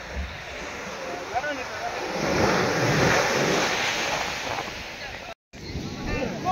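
Sea waves wash in and out at Kanyakumari sunset point, a steady broad surf roar that swells in the middle, with wind buffeting the microphone and a brief dropout near the end.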